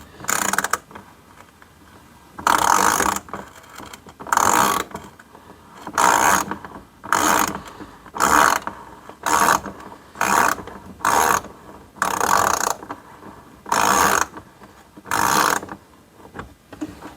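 A ratchet backs a 10 millimeter screw out of a car during an LED headlight installation, giving repeated bursts of close, crisp clicking separated by short pauses.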